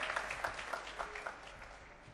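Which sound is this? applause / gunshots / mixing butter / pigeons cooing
applause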